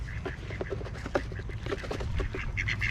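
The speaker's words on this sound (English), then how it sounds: "Little chickens and all the ducks eat." Ducks feeding alongside chickens give a busy stream of short quacks and murmuring calls over a low rumbling background, close and steady.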